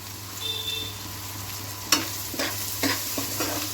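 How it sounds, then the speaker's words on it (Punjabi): Small pieces of sun-dried kaddu vadi being roasted by hand-pressing in a hot oil tempering for an Amritsari pumpkin dish, a steady low sizzle with a few sharp scraping stirs near the end, no talking. "ਹੁਣ ਇਹਨੂੰ ਤੜਕੇ 'ਚ ਭੁੰਨ ਲੈਣਾ ਮੈਂ"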